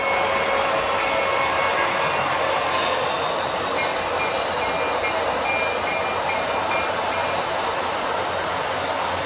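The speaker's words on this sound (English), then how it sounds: "It's interesting to watch because of the congestion of 5 trains on a relatively small layout." Five model trains run together on a compact layout, giving a continuous, fairly loud rumble with steady rolling noise and faint higher squeals throughout, with no talking.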